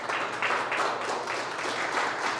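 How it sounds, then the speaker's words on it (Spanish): A church congregation applauds in a dense, continuous wash of clapping heard from a distance, fairly soft and steady with no voices on top. "Dale un aplauso a Dios por eso."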